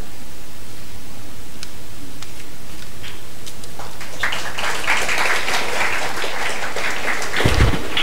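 An audience at a Foundation Day ceremony breaks into applause, a broad crackling roar of many hands that swells in halfway through over a hissy, noisy room tone, with a brief thump near the end.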